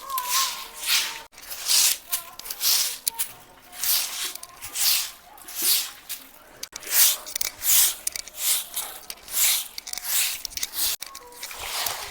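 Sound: smearing and plastering a village courtyard floor

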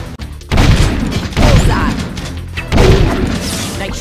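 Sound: gunfire shooting metalheads in video game Jak II

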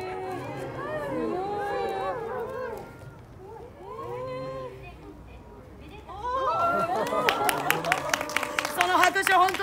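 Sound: audience applause at a monkey performance

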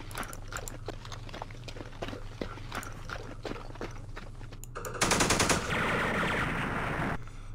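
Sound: machine gun fire from Campaign Series Vietnam video game

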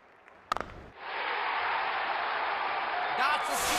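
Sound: crowd cheering in Real Cricket video game

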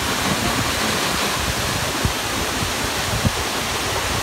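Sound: waterfall

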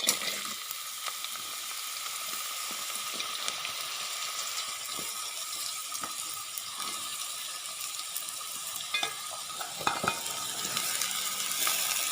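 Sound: chopped onion frying in oil for samosa filling

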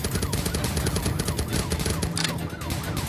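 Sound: gunfire in a video game

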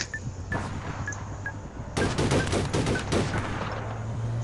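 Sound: gunfire in video game APB Reloaded

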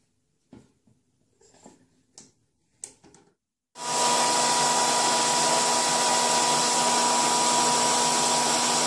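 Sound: hooded hair dryer running

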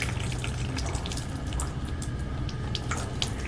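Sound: water spilling from overfilled hair removal machine

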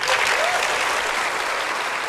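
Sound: audience applause at Apple WWDC keynote

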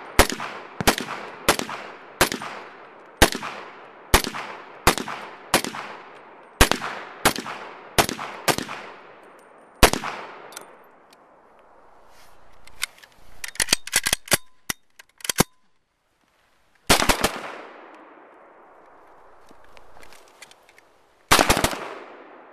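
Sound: Israeli police tactical M1 carbine rifle being fired

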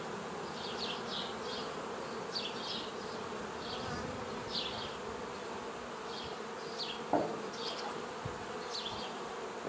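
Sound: honeybees buzzing in a hive

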